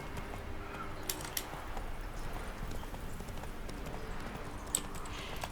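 Steady clip-clop of the horse Roach's hooves in The Witcher 3, a rhythmic galloping patter running the whole time with no voices over it.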